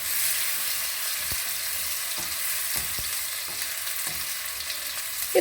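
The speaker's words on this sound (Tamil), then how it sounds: "இப்போ நம்ம எண்ணெய் காஞ்செடுத்து இதில் முதல்ல வெங்காயத்தையும் இந்த பச்சை மிளகாயும் நம்ம போட்டுடலாம்." Onions and green chillies fry in hot oil with a loud, continuous hiss and sizzle and a few faint stirring knocks, alone without talk.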